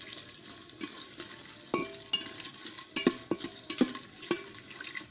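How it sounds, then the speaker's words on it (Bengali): Whole spices, cinnamon, cardamom, bay leaves and dried red chillies frying in oil for Bengali vegetarian khichuri, a faint crackling sizzle with repeated metallic taps and scrapes of a spoon on the pot. "দারচিনি, এলাচ, তেজপাতা, শুকনো লঙ্কা ভালোভাবে ভেজে নেব।"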